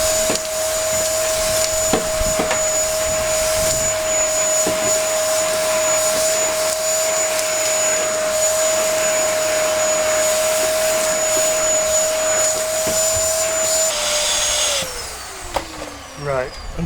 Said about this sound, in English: So again, vacuum,